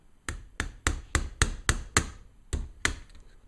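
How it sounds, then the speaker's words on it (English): Nine sharp hammer taps driving a Hogue grip onto a Ruger LCP .380 pistol frame, close and fairly loud, struck in a steady rhythm with a short pause before the last two blows, no voices. "just tap it with a hammer"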